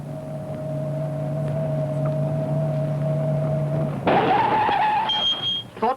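A car drives fast along a clear, open road, its steady engine hum suddenly giving way to a louder, rushing roar with a rising whine near the end.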